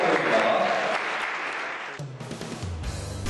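Audience applause right after a countdown at a creative competition, a broad wash of clapping that thins toward the end as a few other brief sounds cut in.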